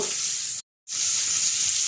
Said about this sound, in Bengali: এখন আমি ভালো করে নেড়ে চেড়ে ভেজে নেব।